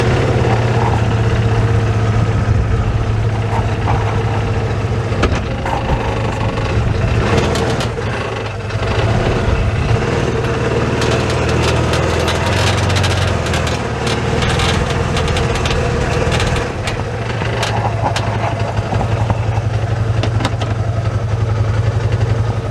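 Side-by-side UTV engine running steadily while riding off grid, a loud continuous mid-pitched drone with rattles and bumps from the ride over rough ground.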